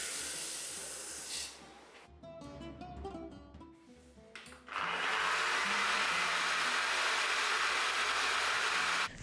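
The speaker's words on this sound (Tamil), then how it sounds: "நம்ம மிக்ஸி ஜாரில் போட்டு நல்லா ஒரு ஃபைன் பவுடரை அரைச்சிக்கலாம்" A mixer grinder whirs in short bursts, then runs loud and continuous at high speed, a harsh buzzing roar grinding dry spices into a fine powder.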